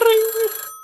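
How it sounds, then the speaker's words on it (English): A telephone rings once, loud and close, with a bright bell tone that cuts off abruptly and leaves a faint lingering hum. "you hear a phone ring"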